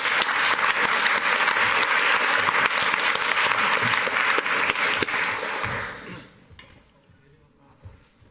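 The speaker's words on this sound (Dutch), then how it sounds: "Geef ze een hartelijk applaus." A studio audience at a De Balie panel on education policy claps in a loud, dense wave that holds steady for about six seconds, then thins out quickly and fades, leaving only a quiet room.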